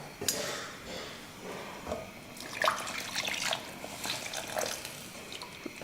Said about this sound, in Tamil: அதனால் இன்னும் கொஞ்சம் எக்ஸ்ட்ரா தண்ணி சேர்த்துக்கிறோம்.